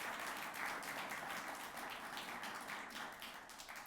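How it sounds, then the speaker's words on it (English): Faint, distant applause from the audience at a ceremonial swearing-in of a national museum commission, a continuous soft patter of many hands that stays even throughout without voices on top. "Please give her a warm round of applause"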